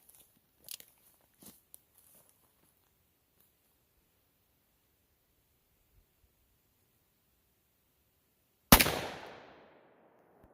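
A Smith & Wesson 686 Plus Deluxe 6-inch revolver fired single action; one sharp, loud shot with a decaying echo, preceded by a few faint clicks and handling noises in otherwise quiet surroundings.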